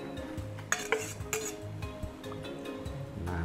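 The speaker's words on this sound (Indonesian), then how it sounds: "Nah, ini sudah mendidih, baru kita masukkan santannya ya." Coconut milk poured into a boiling pot of empal gentong, a Cirebon beef soup, with a stirring ladle and clinking pot sounds over a steady bubbling simmer, close and moderately loud.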